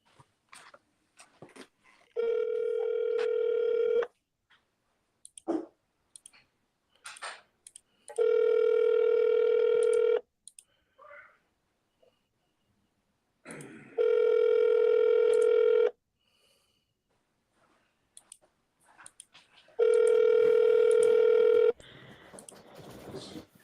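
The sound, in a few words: telephone call ringing through before going to voicemail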